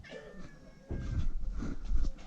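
A cat meows, a thin drawn-out cry followed by louder, rougher yowls close by, with some rustling underneath.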